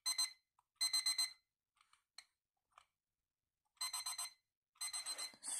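A Disney Cars Lightning McQueen piggy bank alarm clock gives off bursts of rapid, high electronic beeps, four clusters separated by near silence with a few faint clicks between.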